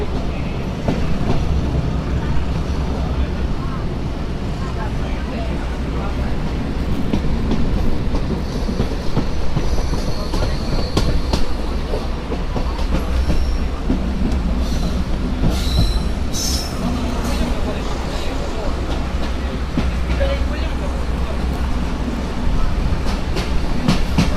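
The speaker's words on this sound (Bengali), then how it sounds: "ট্রেনে গতি আছে মোটামুটি অনেক গতি ট্রেনের" A fast-moving train on the Faridpur to Bhanga line rumbles steadily and loud, with wheels squealing and rattling on the rails throughout, and faint voices now and then.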